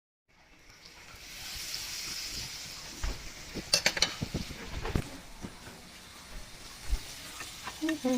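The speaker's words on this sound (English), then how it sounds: "I have a cast iron skillet that I'm going to be cooking all these lovely cakes in." Oat cakes fry in butter in a cast iron skillet with a soft, steady sizzle, while a few louder scrapes and taps of a utensil against the pan break in close by.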